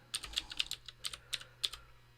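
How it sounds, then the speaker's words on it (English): Fast, irregular typing on a computer keyboard while organizing a photo library, crisp close keystrokes in uneven bursts over quiet room tone. "And now I'm just going to continue on typing."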